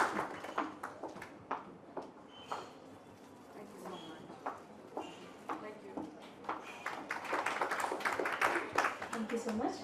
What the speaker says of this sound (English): Can we have a round of applause for Miss Anita Raj